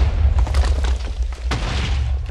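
Deep, loud booms from TNT cannon blasts in the Minecraft video game, several overlapping explosions rolling together in a dense rumble for about two seconds.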